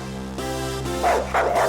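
A dog barks and whimpers in a series of short, tonal yelps, loud and close, with no speech over it.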